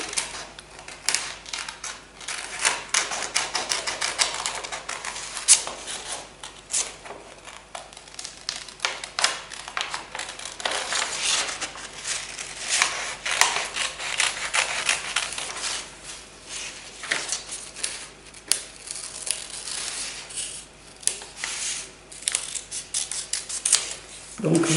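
Scissors snipping through fabric for an appliqué on foam board, a long run of soft rapid crisp cuts, fairly quiet and close, with intermittent talking around them.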